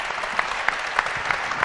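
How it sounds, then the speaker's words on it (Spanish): Audience applause at a business session in Málaga, steady dense clapping with a few sharper individual claps standing out. "Pues le voy a pedir un fuerte aplauso para nuestro exponente."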